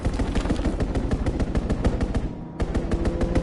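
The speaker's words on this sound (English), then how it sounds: "Strafing the target." Rapid machine-gun fire from a fighter plane's strafing run in Call of Duty WWII, a loud, continuous rattle of shots that breaks off briefly near the end and then resumes.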